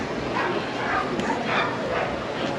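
Sled dogs bark and yip at the start of the Iditarod, the 1,000-mile sled dog race, a loud continuous chorus of many dogs close by, with no talk over it.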